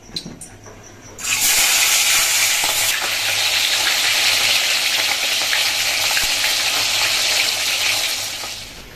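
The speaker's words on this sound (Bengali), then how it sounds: "এখানে কড়াইয়ে তেল দিয়ে দিয়েছি ভাজবো মাছ" Fish fries in hot oil in a wok with a loud, continuous sizzle that bursts in abruptly after a quiet start and holds steady before easing slightly at the end.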